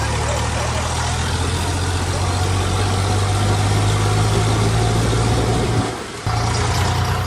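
A heavy Eicher tractor engine idles close by with a constant low rumble, broken by a brief dip near the end.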